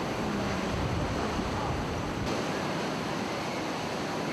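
Ocean surf washes ashore at Haeundae beach in a continuous broadband roar with wind buffeting the microphone, steady and fairly loud, with no voices.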